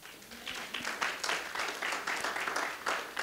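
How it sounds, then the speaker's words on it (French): Audience applause for a church media team during a sermon, a steady wash of many hands clapping with pulsing waves, moderately loud and continuous with no talk over it. "on applaudit pour l'équipe média"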